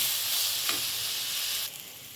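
Rice and peas dry-roasting in a pan over low heat, giving a steady soft sizzle and hiss with a brief scrape of stirring partway through, close and alone.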